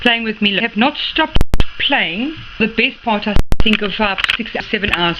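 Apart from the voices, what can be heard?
None of the usual background noises is heard.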